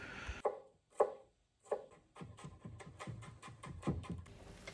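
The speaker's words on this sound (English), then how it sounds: "I chop it the same way I did for the shallots before" A knife chops peeled garlic cloves on a cutting board, a few sharp separate knocks followed by a faster run of quieter, irregular taps, close and fairly soft, with no talking.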